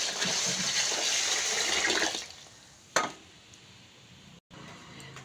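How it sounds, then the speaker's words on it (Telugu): Water pours and gushes over soaked millets in a kitchen as they are washed, a loud rushing stream for about two seconds, then quieter trickling with a single sharp clunk. "వీటిలో ఫస్ట్ అయితే కాస్త వాటర్ వేసుకొని బాగా వాష్ చేసుకొని వాటర్ వేసేసుకుందాం"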